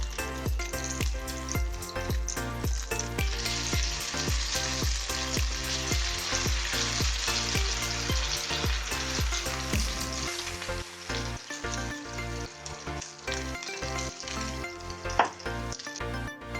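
Spicy hashbrown fries in a pan over a medium flame, giving a steady, dense sizzle and crackle that runs continuously at close range with no talk.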